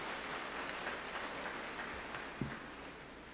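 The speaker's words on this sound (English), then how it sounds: "let us give him a warm round of applause" A church congregation at a Santo Niño celebration applauds in a large reverberant space, a soft, distant, continuous patter of clapping with a faint low thump near the end.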